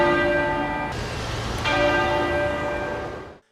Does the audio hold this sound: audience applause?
no